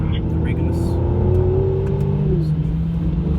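A Mercedes-Benz C43 AMG engine pulls steadily on a racetrack, a loud, continuous drone rising slightly in pitch as it accelerates, with a voice talking over it.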